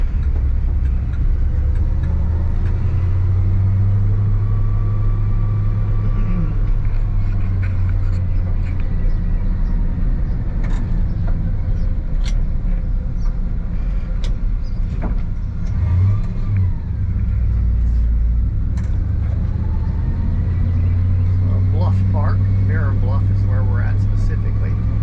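A 1961 International C110 pickup truck drives in second gear, its engine droning loud and steady with low rumble rising and falling as it accelerates gently, a voice talking over the engine noise throughout.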